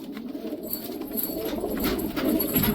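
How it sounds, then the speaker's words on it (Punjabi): Low, throaty cooing from a golden pigeon carries on close by, repeating over a steady backdrop and swelling slightly louder toward the end. "ਇਹ origignal 골ਡਨ ਕਬੂਤਰ ਹੈ ਲੈ"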